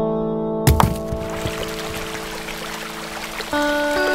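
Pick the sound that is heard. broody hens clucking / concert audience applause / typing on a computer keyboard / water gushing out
water gushing out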